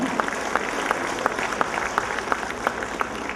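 Audience applause for a second-prize winner at a kindergarten annual function, a steady wash of many hands clapping with sharper individual claps popping out, moderately loud and continuous throughout.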